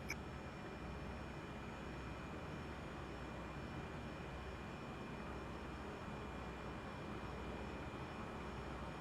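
Steady aircraft engine drone from an airliner idling before departure in Microsoft Flight Simulator 2020, set in New Zealand, a continuous even broadband roar holding at a constant level throughout with no talk.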